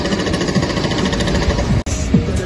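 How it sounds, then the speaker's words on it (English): Construction work on a hotel being built beside a football stadium in London, a steady rapid jackhammer-like rattle heard from a distance in the background, continuous with a brief dropout. "I don't know if you guys can hear some construction work going on there in the background"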